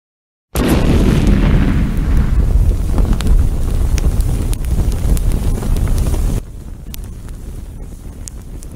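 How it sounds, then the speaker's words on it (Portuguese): Explosion bursting in suddenly after silence, a loud roaring blast that sustains as a dense rumbling wash for several seconds before dropping abruptly to a quieter lingering hiss. "Opa, explodiu!"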